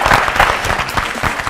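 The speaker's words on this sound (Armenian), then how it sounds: "Ծափահարենք Artus Jewelry ընկերությանը" An audience at a televised game show claps in a short, steady burst of applause, close and loud.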